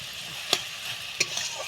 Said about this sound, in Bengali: আর কড়াই চাটনি বসিয়েছি